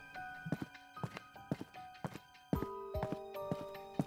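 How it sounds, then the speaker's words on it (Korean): Footsteps approach a bedroom door as a horror-story sound effect: steady, evenly spaced thuds about twice a second over an eerie sustained tone, growing slightly heavier toward the end. "발자국 소리가 점점 방문 가까이에서 계속 나는 겁니다"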